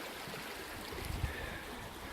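Aquila Creek flows beside a trail in Huron-Manistee National Forest, giving a steady, soft, broadband rush of water that stays even throughout with no talking.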